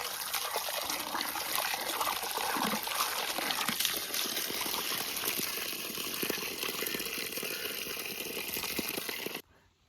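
Running water splashes and trickles steadily over freshly cut fish being washed by hand, a continuous close gush that stops abruptly at the end, with no talking.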